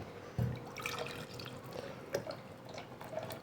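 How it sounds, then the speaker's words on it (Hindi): Water poured into a jug holding a mango mixture for homemade mango juice, a brief splashy pour with a few drips, close and moderately quiet. "और इसमें बाकी पानी शामिल कर देंगे।"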